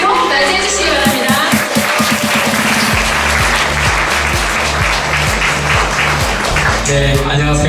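Warm applause from a crowd at a business seminar welcoming a top network-marketing leader to the stage, broad clapping layered over loud walk-on music with a steady beat, continuous and fairly close.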